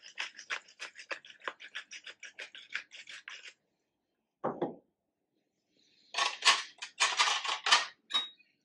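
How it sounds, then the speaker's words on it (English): A utensil mixing chimichurri in a bowl, with a rapid run of light scraping clinks, a short pause and a dull knock, then a denser burst of scraping and tapping. "now mix it nicely"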